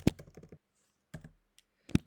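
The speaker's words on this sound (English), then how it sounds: "So I'm typing the password, but you would not be able to see" A password being typed on a Mac computer keyboard: short bursts of quick, light key clicks separated by pauses, close up and quiet, with no speech.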